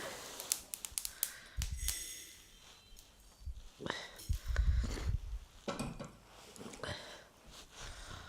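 Crackling and popping as an ingredient roasts in a pan, scattered sharp snaps and ticks at uneven intervals, quiet and close.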